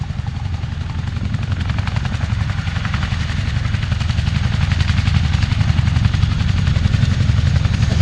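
A Chinook helicopter performs at the Cosford air display, its heavy rotor thudding in a loud, steady, throbbing chop that holds close and constant, with no voices.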